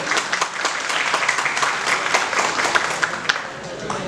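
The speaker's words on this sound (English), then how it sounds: "Please have a huge round of applause for Sir." An audience at a law orientation event for new students gives a guest of honor a round of applause, steady scattered clapping filling the room for a few seconds.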